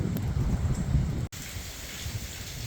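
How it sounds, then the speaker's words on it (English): Rain falling off and on at a trailhead on Mt. Davidson in San Francisco, a steady soft hiss of drops close by, with one very brief dropout partway through. "Got my umbrella out because it is raining off and on."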